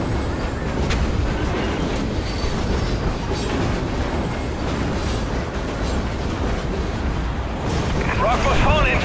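A train rumbles along steadily in the video game Call of Duty: Ghosts, a loud continuous roar with rail clatter and a squeal toward the end, with no pauses throughout.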